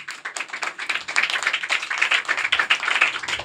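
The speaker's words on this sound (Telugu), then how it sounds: "వీళ్ళని అందరం అభినందిస్తూ ఒకసారి చప్పట్లు కొడదామా?" A church congregation at an Easter service claps together, a close, lively burst of many hands that swells and stays strong with slightly uneven rhythm.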